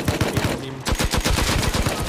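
An LMG light machine gun firing in the video game Rust, a loud, rapid sustained burst of shots with a brief gap, close up and without talk.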